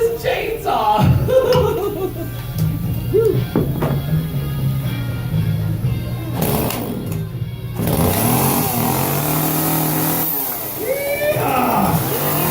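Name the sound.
chainsaw running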